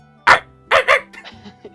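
A person imitates a Chihuahua barking with three close, loud yaps, followed by a few softer voiced noises.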